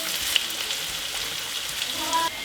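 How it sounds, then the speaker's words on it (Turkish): Minced meat fries in a pan with a steady, close crackling sizzle that continues evenly throughout. "Kıymayı da iyice kavuralım"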